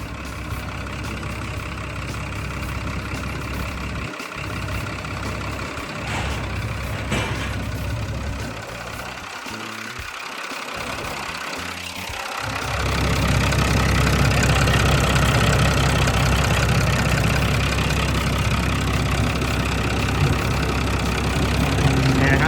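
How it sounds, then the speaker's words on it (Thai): The Isuzu six-cylinder turbo diesel engine of a Dynapac R20B road roller idles steadily nearby, then is briefly revved around the middle before settling into a louder, rougher idle. "เดี๋ยวลองเบิ้ลเครื่องให้ดูนิดนึงนะครับ"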